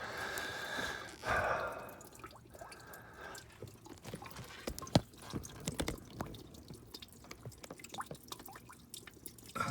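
Water draining from the cooling system of a 1992 Mercedes W124 300E with the M103 engine, running and dripping into a bucket as an uneven trickle with scattered drips and splashes, close by.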